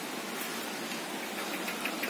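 Rain falls on and around a veranda in Russia, a constant hissing wash of drops with slight patters toward the end and no talking.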